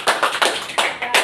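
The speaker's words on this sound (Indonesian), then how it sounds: "Mari kita beri aplaus." A small audience claps in short, uneven bursts of applause at an indoor presentation, close and fairly loud, with no voices over it.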